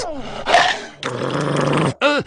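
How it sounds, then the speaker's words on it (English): A cartoon dog growls and snarls in The Simpsons, rough close growls in bursts with a final yelping bark, mixed with voice-like animated sound. "Little Homer had a dog and Bongo was his name"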